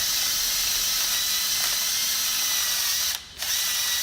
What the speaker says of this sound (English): First, remove the rust in here.